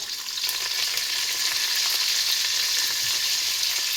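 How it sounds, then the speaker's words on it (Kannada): Onion, green chilli, curry leaves and mustard seeds frying in oil in a pan for a brinjal stir-fry, a dense steady hiss of sizzling, close and unbroken. "ಸೊ ಇದನ್ನು ಚೆನ್ನಾಗಿ ಫ್ರೈ ಮಾಡ್ಕೊಳ್ಳಿ"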